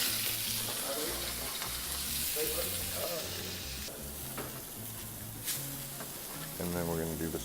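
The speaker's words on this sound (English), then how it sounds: "we're gonna add a little bit more oil and we're gonna throw in the veggies" Vegetables stir-fry in oil for yakisoba, making a steady crackling sizzle that runs the whole time, with a voice talking over it and stirring clatter in the pan.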